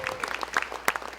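Audience applause at a TEDxYouth event, a short burst of scattered, fairly sparse clapping heard from a moderate distance in a large hall.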